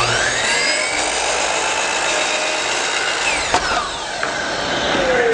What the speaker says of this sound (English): I like to square off the very bottom of the cut with the miter saw